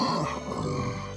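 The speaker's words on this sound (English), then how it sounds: "Gorilla." A single short cartoon gorilla grunt, close and fairly loud, heard alone over a soft music bed.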